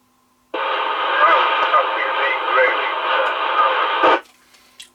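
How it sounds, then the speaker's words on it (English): Transmission from a Maxcom 7E handheld UK CB27/81 radio, scratchy with static, about four seconds long, starting and stopping abruptly. A keyed burst of noise ends it, and a voice is heard over the radio. "That's a bit more scratchy, but still readable."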